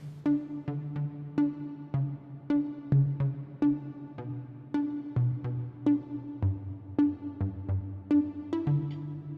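Plucked synth notes in a steady rhythm over a low sustained bass, an expanding pluck sound in Logic Pro X for a remake, each pluck short and bright, clean and fairly quiet.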